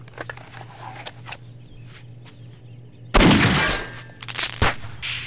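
Gunfire in the video game Postal 2: a few faint distant pops, then a sudden loud burst of shots with ringing decay, followed by another sharp report, heard without talk.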